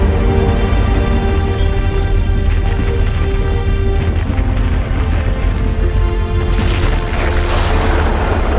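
Sound effect for an explosion on the Moon's surface in a television series, a loud, dense, sustained roar that rumbles steadily for several seconds with a brightening surge near the end.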